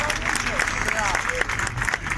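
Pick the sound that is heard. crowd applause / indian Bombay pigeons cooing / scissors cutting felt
crowd applause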